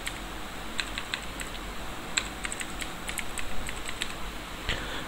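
Clicky keystrokes on a computer keyboard, typed in short irregular bursts while an environment variable line is entered during an Oracle 11gR2 install on Oracle Enterprise Linux; close and crisp over a steady background hiss, no talking.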